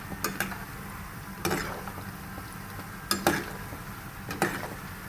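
Sweet dumplings (Arabic sweet balls) fry in oil with a steady low sizzle, while a spoon stirs them in short bursts of scraping and clinking that come about every second or so.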